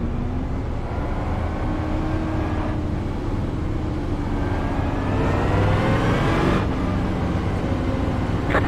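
Super late model race cars in a sim racing game at South Boston, engines droning steadily with rising and falling pitch sweeps as cars pass, loud and continuous with no talk.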